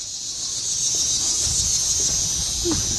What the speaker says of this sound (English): you can hear the cicadas. That means it's summer